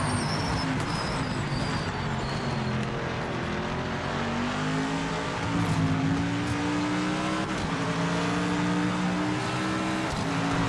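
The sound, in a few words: race cars in video game Project Motor Racing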